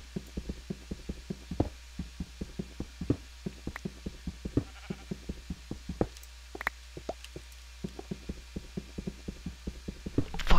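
Minecraft sheep bleating now and then over a run of soft, rapid clicks and thumps from digging, all steady and moderately quiet with no voices.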